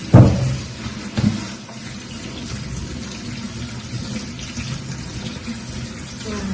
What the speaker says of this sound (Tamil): இது சும்மா உங்களுக்கு ஆடுறதுக்கு தான் கழுவினேன்